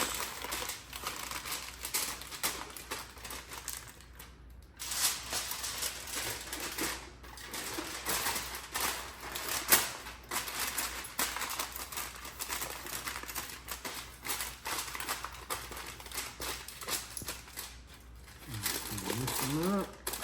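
Aluminum foil crinkled and folded tightly around barbecued beef and pork ribs from a primitive pit: continuous loud crumpling and rustling close up, with a voice talking intermittently over it.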